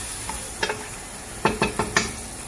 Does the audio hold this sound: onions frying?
yes